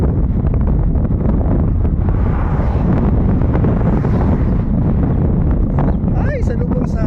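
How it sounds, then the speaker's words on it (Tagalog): Strong headwind buffets the microphone on a bike ride toward Lake Bracciano, a loud, continuous low roar of gusting wind noise throughout, with brief voices near the end. "Ay, salubong sa hangin."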